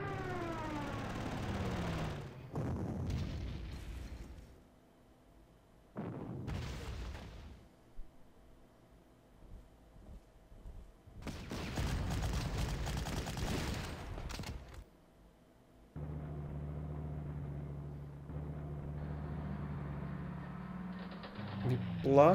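Artillery fire in the Panzer Corps strategy game, during a Norway scenario, comes as several separate roaring bursts of booming volleys with quieter mechanical clicks and hums between them.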